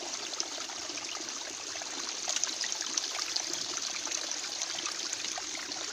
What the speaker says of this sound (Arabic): ها منين خارج الماء؟